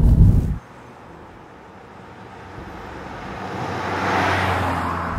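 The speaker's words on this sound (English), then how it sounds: "On the inside, the sound is enhanced by a resonator, which is under the bonnet." A 2017 Audi S3 sedan's engine heard from inside the cabin, its note enhanced by a resonator under the bonnet: a short loud burst, then a quiet hum that gradually swells into a stronger rising drone.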